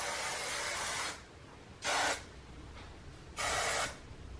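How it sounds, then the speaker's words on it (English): Hairspray hisses onto styled hair in a home getting-ready routine, heard as three separate bursts: a long spray, then two shorter ones, each close and steady and separated by quiet pauses. "just take the same hairspray again"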